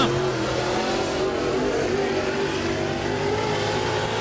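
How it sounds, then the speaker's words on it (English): Race car number 7, driven by Austin Breedlove, rolls out on track at a night race. Its engine gives a loud, steady drone that holds throughout with no break. "car number 7 rolling out."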